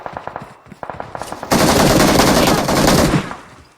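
Gunfire in a shooting video game: a rapid string of light shots, then a loud, sustained burst of heavy automatic fire that dominates the scene before it fades out.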